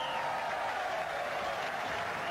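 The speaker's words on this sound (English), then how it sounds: "So the crowd cheering Port Moresby as they get on the board" A 1986 rugby league crowd at a National Panasonic Cup match between the Roosters and the Port Moresby Vipers cheers after a successful conversion, a steady, broad roar of voices and applause carrying through without a break.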